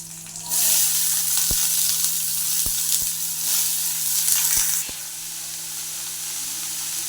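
Bottle gourd fries in a pan with a loud, steady sizzle and a few sharp clicks, then drops to a quieter hiss after a few seconds.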